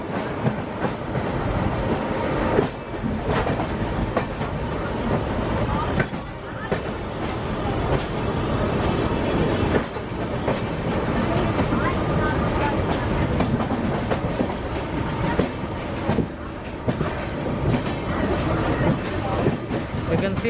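A Janshatabdi Express pulls out of platform 1 on its Chennai to Nellore run, a steady rumble with rhythmic clickety-clack of wheels over rail joints, heard close from the doorway for the whole stretch without speech.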